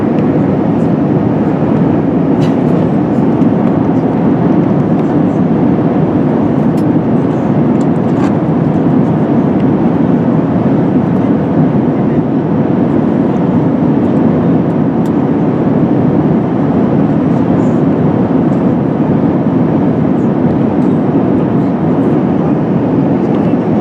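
Cabin of a British Airways Airbus A380 descending into London Heathrow: a loud, constant broadband roar of engines and airflow holds steady throughout, with faint clicks and rattles scattered through the cabin.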